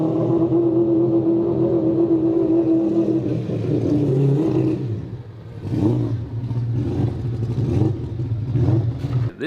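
An all-wheel-drive four-rotor race car roars through a half-mile run, its engine droning loud and steady before dropping off and then surging again in repeated revving bursts, close and dominant with no talk.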